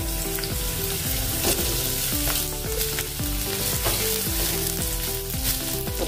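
Sliced onions and garlic cloves sizzling in hot oil in a kadai, a dense continuous frying crackle with repeated stirring scrapes and clinks throughout, no voices.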